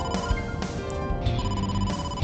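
An incoming phone call rings in the video game AI: The Somnium Files, a bright electronic ringtone repeating in quick pulses, loud and close.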